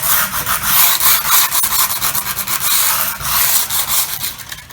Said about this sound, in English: There's a little rubber sanding block.